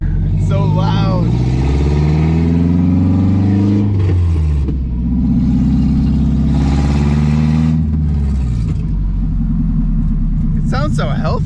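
A KA24DE-swapped Nissan 300ZX engine runs loud and rumbling, its pitch rising and falling with revs across two pulls, heard from inside the car with people talking over it.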